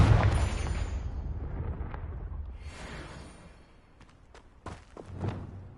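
A Confringo blasting spell in Hogwarts Legacy goes off as a deep, rumbling explosion at the start, its boom fading over a few seconds before softer crackles and thumps follow.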